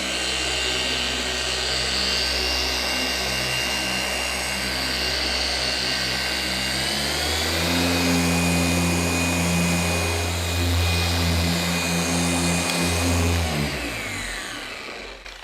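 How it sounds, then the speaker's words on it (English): A paint polisher runs on a 2022 BMW G80 M3 Competition xDrive during finishing polish, a loud steady whine and hum that shifts in pitch midway as the speed changes, continuous throughout. "this thing gets loud when I try to talk at the same time as polishing"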